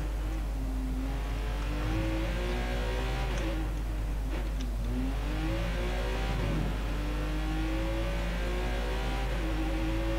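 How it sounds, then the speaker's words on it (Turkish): Car engine revving in the video game Watch Dogs 2, the pitch climbing and falling in smooth sweeps over a constant low drone, loud and continuous for the full stretch. "Arabanın sesi o kadar yüksek ki müzik çalıyor mu çalmıyor mu anlamıyorum."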